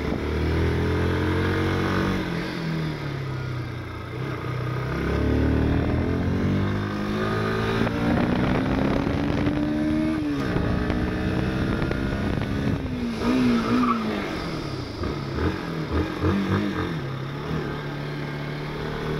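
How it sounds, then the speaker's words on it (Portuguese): A 160cc motorcycle runs down a straight road, its engine droning steadily and then winding down as it brakes hard, with falling tones and brief rises as the revs change. "nessa próxima passada na reta eu vou fazer um teste de frenagem para vocês ficar com som novamente"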